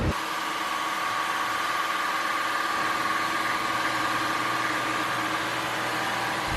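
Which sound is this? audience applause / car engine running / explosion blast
car engine running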